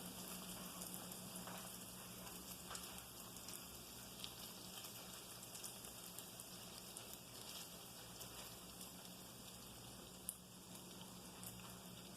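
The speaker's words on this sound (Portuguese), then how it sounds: "Então com o fogo baixo a gente vai fritando e ele é rápido para fritar." Donuts fry in a pan of oil over low heat, giving a steady, close, continuous sizzle with faint crackles throughout.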